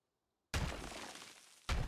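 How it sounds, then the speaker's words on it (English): A building smashed by a wrecking ball in the Deconstruction Simulator video game: a loud crashing, shattering impact lasting about a second, then a second heavy crash close by, with no talk. "All right, let's go back to some smashing."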